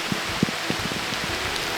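Rain falls steadily around a remote countryside cottage, a constant wash of hiss with scattered drips and taps close by.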